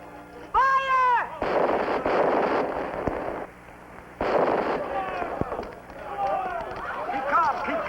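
Ship cannons firing in a pirate film sea battle: two heavy booming blasts with rumbling tails, mixed with shouting voices and a score underneath.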